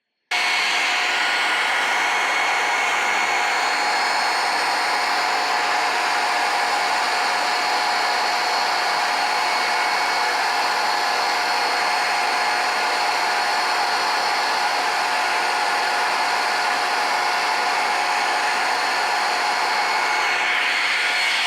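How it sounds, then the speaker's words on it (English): A commercial vacuum cleaner runs with a steady, loud motor whine and airy roar, unchanging from start to finish. "I hear a vacuum cleaner in the other doorway."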